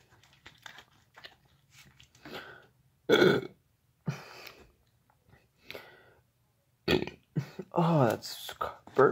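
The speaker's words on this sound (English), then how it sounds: "Oh, that's burp. That makes it burp." Loud burps after drinking carbonated sparkling water, bursting out in a few separate gulping blasts between stretches of talk, close to the mic.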